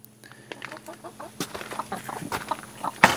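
Chickens clucking close by in a backyard flock, a series of short irregular clucks and calls rising in activity, with a sharper squawk near the end.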